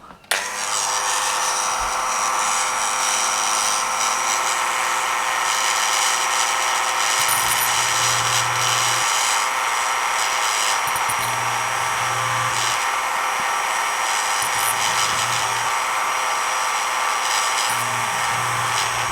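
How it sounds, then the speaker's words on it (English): Power drill boring holes for wires through the plastic of an MPC 1/24 General Lee model car kit, a steady high whine running throughout with a few brief low bursts, close and alone. "we can drill those out for the wires as well"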